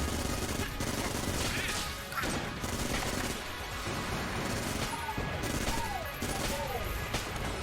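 Gunfire in Enter the Gungeon plays as a busy stream of crashing, rapid game shots layered over music and other effects, loud and continuous throughout.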